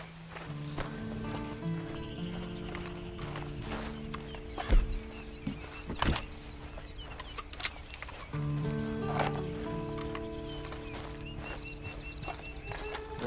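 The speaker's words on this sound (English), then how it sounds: "And you better get on this horse." Horse hooves clip-clopping in Red Dead Redemption 2, a steady rhythm of soft hoofbeats under game music and ambience, with a few sharper knocks and no talk.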